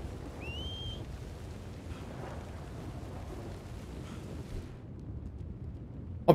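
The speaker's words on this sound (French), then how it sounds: "Mec, ça fait 5 minutes que mon perso il siffle en boucle." A character in Red Dead Redemption 2 whistles once for a horse, a short, clear rising whistle early on, then wind and rain noise carry on alone until a sharp knock at the end.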